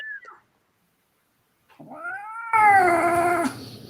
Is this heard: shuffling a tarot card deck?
no